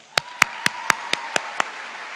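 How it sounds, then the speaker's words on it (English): Seven sharp, evenly spaced claps, likely from one or a few people, start graduates' applause at a Class of 2025 valedictorian ceremony. They ring out loud against quiet, with a faint steady tone running underneath. "Give yourselves a round of applause."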